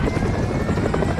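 Helicopter in the battle-royale game BGMI, a dense, loud, steady rotor chop and engine roar filling the whole clip with no pauses.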